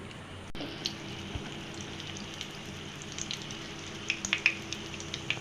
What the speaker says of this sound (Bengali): আমি রুটিটা ভেজে নিচ্ছি একটা একটা রুটি এইভাবে দিয়ে দিচ্ছি